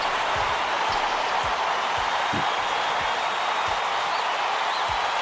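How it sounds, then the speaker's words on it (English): An arena crowd roars at a College Basketball 2K8 game, a dense, loud, continuous wash of cheering with faint bouncing ball thuds underneath. "This crowd is going insane."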